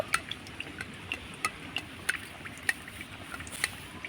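A spoon spreads hot oil over ful pitha frying in a pan, making a steady, soft sizzle dotted with small sharp crackles and light taps, close up and without any voices.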